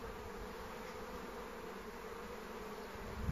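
Honeybees leaving a hive, an Italian colony, with a continuous soft buzzing hum from many insects flying close by. The drone is even and quiet throughout and no one speaks.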